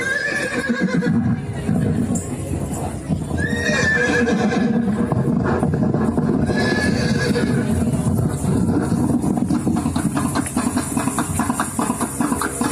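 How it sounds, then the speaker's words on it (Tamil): A horse neighs loudly and repeatedly amid a dense, loud background of hooves clip-clopping and crowd-like din, as if galloping through the streets of Madurai in a devotional retelling. "தானே தலைமை சேவகனாக குதிரை மீது ஏறி மதுரை மாநகர் திருவீதிகளில் புழுதி பறக்க பாய்ந்து வருகிறார்."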